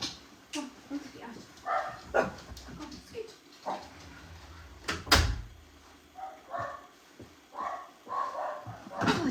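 Several dogs bark and whimper indoors in short irregular bursts, with a sharp loud yelp near the middle, while someone talks and shushes them over the noise.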